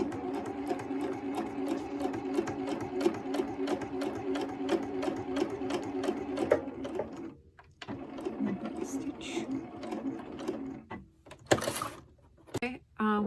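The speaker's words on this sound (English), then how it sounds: "I'm gonna take you to my sewing machine now. I'm gonna go ahead and sew it around." A sewing machine stitches around a piece of needlework in a steady fast rhythmic whir of needle strokes for several seconds, then stops, followed by handling clatter and a quiet voice speaking nearby.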